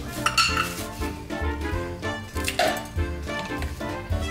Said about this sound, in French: il me faut donc mélanger de la glace et du piment